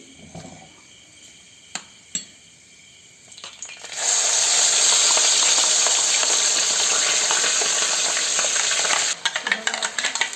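Onion-tomato paste poured into a hot uruli pan for chicken curry, a few clanks and scrapes first, then a sudden loud, sustained sizzle that cuts off into stirring clatter.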